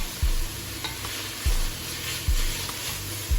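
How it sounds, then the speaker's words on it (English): Cabbage soup vegetables stirred in a pot over medium-low heat, with four evenly spaced scraping strokes of a spoon against the pot over a soft continuous sizzle. "We're cooking this on medium-low heat. Give it a stir."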